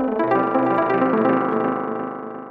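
A sustained synth-like tone processed through the FL Studio 20 Delay Bank plugin with the grain setting, a dense smeared tail that slowly fades, moderately quiet with no talking.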